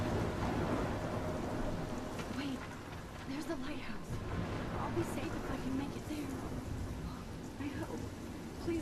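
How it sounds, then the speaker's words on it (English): Thunderstorm with rain in the video game Life is Strange, a dense, continuous roar of rainfall with low rumbling underneath, steady and fairly faint, with a voice speaking over it. "you're in the middle of a storm"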